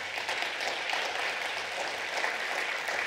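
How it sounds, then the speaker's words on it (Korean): A church congregation gives a sustained round of applause, a steady wash of many hands clapping at moderate distance with no pauses. "격려와 위로와 또 힘찬 박수를 부탁드립니다"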